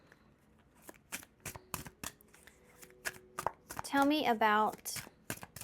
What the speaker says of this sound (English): one more shuffle, guys. This is a very slippery deck on my table.